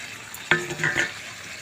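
Fried potatoes dropped into chicken kosha curry and stirred, giving a sharp scrape of a spoon, then a brief sizzle and a few stirring strokes in the pan, all close and without talk.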